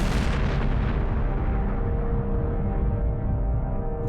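A huge Big Bang explosion effect: a loud, sustained roaring rumble that starts bright and broad, then slowly darkens and fades over a few seconds, with no voices.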